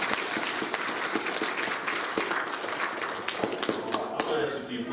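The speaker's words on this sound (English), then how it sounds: "So let's give them a round of applause" An audience claps at a Christmas recital, with dense, sustained applause from a crowd that continues at steady loudness throughout, with a few sharper individual claps standing out.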